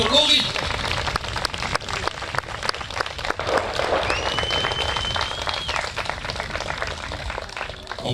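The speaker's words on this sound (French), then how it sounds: "j'aimerais vous demander un tonnerre d'applaudissements, messieurs et mesdames, pour Esteban et pour Laurie" Wedding guests in Orléans applaud the couple, a dense, steady wash of many hands clapping that fills the room from start to finish, with scattered murmurs of voices mixed in.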